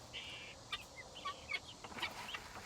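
Chickens cluck in short, soft bursts from a backyard flock being shut in for the evening, the calls scattered and fairly faint against light background noise.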